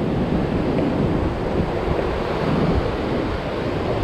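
Ocean waves break along a rocky sea-fishing spot in a continuous, close, rushing roar, mixed with wind buffeting the microphone and no talk.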